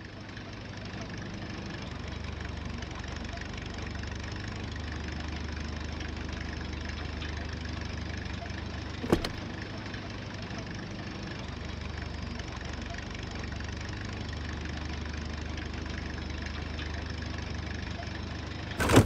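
A car engine droning steadily while driving in the video game Titan Chaser, a constant even rumble that holds for the whole stretch, broken only by a single sharp click midway and another at the end.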